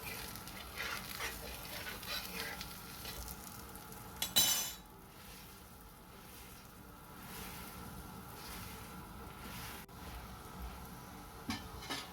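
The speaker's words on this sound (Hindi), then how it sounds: "अब हम घी लगाएंगे ऊपर वाली साइड पे और पराठे की साइड चेंज करेंगे।" An aloo paratha fries in ghee on a tawa with a faint, steady sizzle, broken by one brief louder scrape or clatter partway through.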